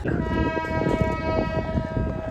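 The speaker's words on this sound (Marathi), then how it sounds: "हॉर्न ऐकू येत असेल तुम्हाला" A train horn at a railway station in Beed sounds in a sustained, steady blare over the rumble of rail traffic, continuing throughout at moderate loudness.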